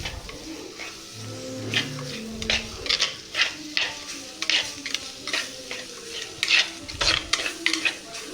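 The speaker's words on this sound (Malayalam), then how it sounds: "മഞ്ഞൾപ്പൊടി ഇട്ട് നല്ല ഒന്ന് വഴറ്റിയെടുക്കണം" A spoon scrapes rhythmically through a sizzling pan of masala with turmeric powder while it is sautéed for a squid curry, with repeated close stirring strokes over a constant frying hiss.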